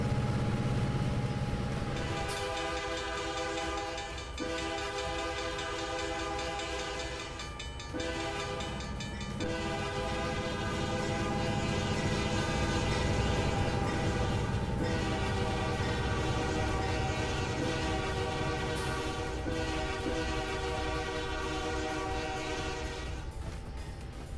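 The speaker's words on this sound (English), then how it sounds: "A lot of horn blowing because there's a lot of crossings in this area getting into Greenville" A train horn in the Trainz 2019 simulator, heard from a locomotive running long hood forward through many grade crossings near Greenville, sounds in repeated long blasts over a steady engine drone and rail noise.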